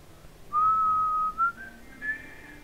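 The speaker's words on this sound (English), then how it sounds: "I can't whistle to save myself." A person whistles indoors, one long steady note followed by a short note and a brief higher tone, clear and close with no talking.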